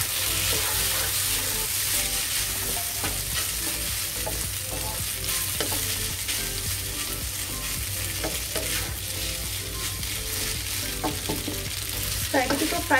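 Spaghetti frying in a pan with salt and black pepper, a loud continuous sizzle with constant stirring and scraping throughout, no talk.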